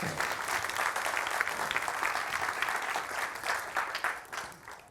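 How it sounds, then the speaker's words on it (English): Broad, sustained audience applause at a science communication competition semi-final, a thick wash of many clapping hands that stays loud and even for several seconds before tapering off at the close. "it's worth a round of applause"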